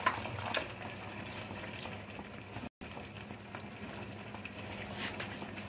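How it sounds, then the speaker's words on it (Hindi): Worcestershire sauce and dark soy sauce poured into spaghetti frying in a pan, a faint, steady liquid trickle over a soft background hiss with a brief dropout midway. "वूस्टर शायर सॉस डाल रही हूँ मैं तकरीबन 3 टेबलस्पून के करीब, टू टेबलस्पून मेरी डार्क सोया सॉस है"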